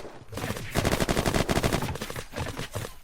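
Rapid automatic gunfire in the video game Unturned, from a Scalar or PDW, cracks in a fast, loud, continuous rattle with short gaps, close and dominant.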